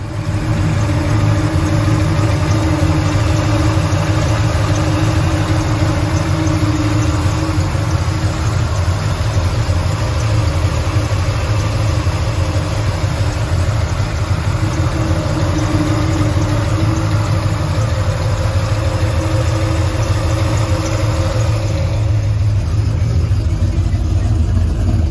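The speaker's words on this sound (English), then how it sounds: "We'll crank the engine." A 1979 Ford Ranchero's engine runs at a steady idle after being cranked, a continuous close, loud rumble that holds evenly throughout with no talking over it.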